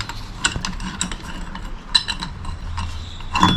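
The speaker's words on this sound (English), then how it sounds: "as I tightened the two bolts, the clutch, as you just saw, came out just like this" Wrench clicks and metallic ratcheting as two M6 bolts are tightened to press the clutch out of a Honda Motocompo case, sharp irregular ticks and creaks close by, ending in a louder clunk.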